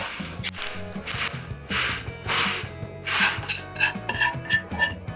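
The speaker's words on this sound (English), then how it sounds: "I'm about to add the sauteed onions here." Sauteed onions tipped into a pan of sliced potatoes, scraping and rubbing of a utensil against the pan in repeated short strokes with a faint sizzle, close and moderately loud.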